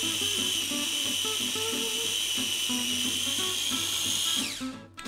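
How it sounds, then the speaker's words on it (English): A food processor blitzes a peanut butter truffle mixture with sugars, a steady high motor whine running continuously at close range and winding down abruptly at the end. "put the lid back on and blitz together all the ingredients until they start to clump together"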